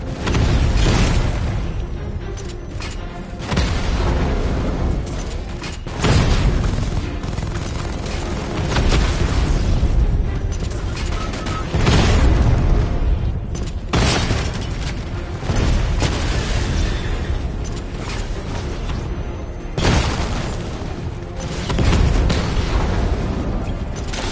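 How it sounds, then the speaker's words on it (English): Heavy 60mm cannon fire and explosions from the Batman Arkham Knight video game, loud repeated booming blasts at irregular intervals over a dense rumbling battle bed, with no speech. "Your 60mm cannon will penetrate these heavily armored units, but it'll take a few direct hits to destroy them."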